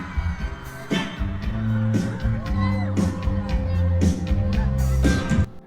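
A crowd at a concert, its voices sounding teenage, screams and whoops in repeated bursts over loud music.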